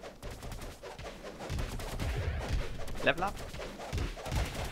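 Gunfire in the video game Cube World rings out in rapid bursts beneath excited German voices and a chirpy game soundtrack, with one sharper shot standing out midway.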